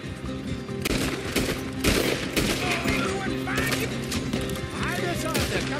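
Video game gunfire rings out in repeated sharp bursts and volleys, loud and close, mixed with crashes and impacts while characters shout over the action.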